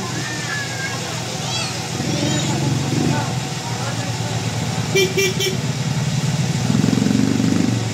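City street traffic with motorcycles and cars passing beside a mountain of garbage, engines droning continuously while horns toot in short bursts, and people talk throughout near the recording.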